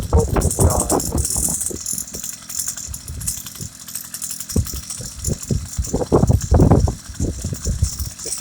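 A warmed-up motorised bicycle engine runs close by with a loud, rattly idle that churns steadily throughout, swelling briefly toward the end.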